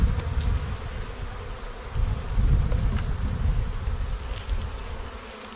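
Honey bees swarm and buzz around an open hive, a dense, continuous drone close by that swells and eases without a break.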